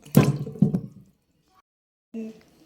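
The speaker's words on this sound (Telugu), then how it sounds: "ఒక బౌల్లో వాటర్ తీసుకొని క్యారెట్ని శుభ్రంగా కడిగేసేయాలి" Carrots are swished and rubbed in a bowl of water, making two quick splashy sloshes close by, then a pause, then another brief slosh.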